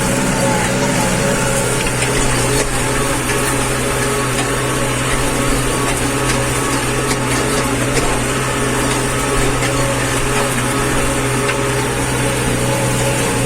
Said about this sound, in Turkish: Diğer traktör de geliyor. Diğer traktör de arkadaşlar TD 110. Goblesi 24'lü.